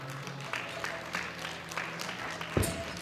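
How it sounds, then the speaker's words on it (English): Audience applause at a junior women's world powerlifting championship after a lifter misses her lockout, a steady, moderate spread of clapping with a brief louder thump near the end. "Give her a big round of applause."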